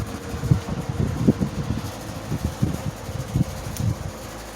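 A Wizard 6jc3020 box fan running with a steady low whooshing hum and a faint rhythmic thumping flutter, close to the microphone and continuous, with no voices.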